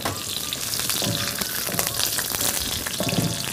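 Curry leaves and green chillies fry in hot oil in a pan with a loud, dense, continuous sizzle and crackle, close up, with occasional stirring scrapes and no voices.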